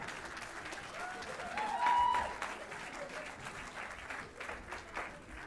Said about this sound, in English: Big round of applause, please, for Como.